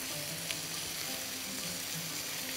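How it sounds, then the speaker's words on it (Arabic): Pesto cream sauce cooking in a pan, a steady soft sizzle and bubbling with faint clinks, fairly quiet and close, no talk. "هحط بقى الكريمه وكده يبقى الصوص جاهز عندي"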